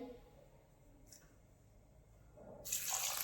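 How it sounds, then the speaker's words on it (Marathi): Water is poured into a pot holding sugar, a loud splashing pour that bursts in near the end after a quiet stretch with faint background sounds. "आता पहा पाणी इथं आपण किती घालणार आहे"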